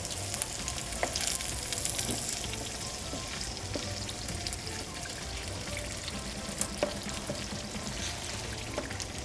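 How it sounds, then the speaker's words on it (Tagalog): Filipino-style spaghetti sauce hits a pan of cooking ground pork, and a steady sizzle and frying crackle follows with occasional stirring clicks, close and without any voices. "At ngayon, ilagay na natin yung ating spaghetti sauce."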